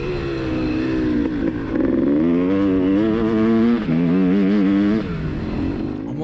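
Two-stroke dirt bike of roughly 70 to 80 horsepower on a motocross track, its engine loud and close, revving up and down in rising and falling sweeps with a buzzy, raspy tone throughout.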